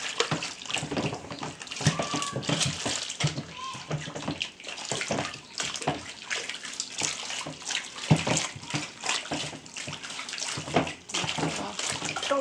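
Homemade liquid coconut soap mixture being beaten by hand, giving a continuous sloshing, splashing churn of liquid with rapid irregular strokes, close and fairly loud throughout with no speech over it.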